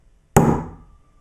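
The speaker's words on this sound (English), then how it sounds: "now I'm going to use my brass hammer, and I'm just going to do a nice clean strike" A brass hammer strikes a metal letter stamp once for necklace stamping, a sharp close impact followed by a brief ringing decay, alone in a quiet room.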